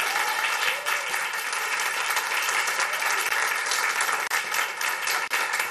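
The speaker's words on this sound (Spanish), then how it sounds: "Un aplauso." A studio audience at a Spanish-language comedy show bursts into sustained, loud, dense applause that holds evenly throughout with no talking over it.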